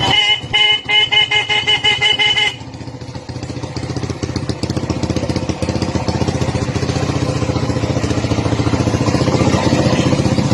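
A motorcycle horn, powered by a small capacitor in place of a completely dead battery, blares in rapid repeated beeps for a couple of seconds, then the engine idles loudly and steadily up close.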